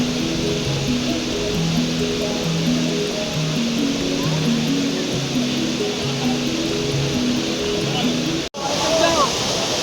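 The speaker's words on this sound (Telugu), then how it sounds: "వాటర్ చూడండి ఎట్లా వస్తుందో." A waterfall rushes with a loud, steady roar of water close by, while people talk over the constant noise.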